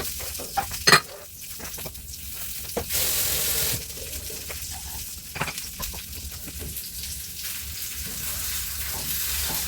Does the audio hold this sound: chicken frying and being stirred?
yes